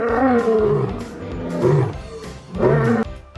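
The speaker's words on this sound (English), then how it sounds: "L for lion, strong and loud." A lion roars loudly in several long, rumbling bursts that swell and fade over a few seconds, with no talk over it.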